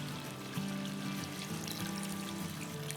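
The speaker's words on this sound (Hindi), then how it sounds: "पानी डाल देते हैं" Water poured into a pot of aloo mutton gosht curry on the stove, a faint steady pouring and trickling stream with a low hum underneath and no speech.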